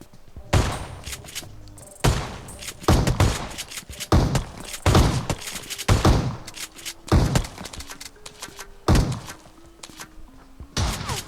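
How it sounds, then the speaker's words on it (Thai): Repeated bursts of video game gunfire crack out in rapid volleys every second or so, loud and close, with game music tones faintly underneath. "เสียงปืนได้อยู่"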